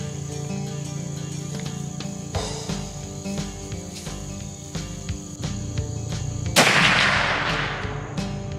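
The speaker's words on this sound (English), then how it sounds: "we're going to fire up a few rounds, make sure the muzzleloaders are in proper shooting order" A single loud muzzleloader rifle shot booms outdoors during pre-season test firing, ending in a long decaying echo, while insects chirp steadily in the background throughout.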